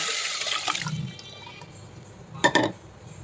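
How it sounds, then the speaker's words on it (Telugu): Water mixture is poured into a pot of tomato rasam with a tempering already browned in it: a short splashing pour, then quieter trickling and a second brief burst of liquid. "ఇప్పుడు మనం వాటర్ కలిపి పెట్టుకున్నదంతా ఇందులో వేసేసుకుందాం"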